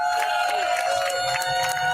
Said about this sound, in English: I want to give a huge round of applause to all the organizers who put this incredible event together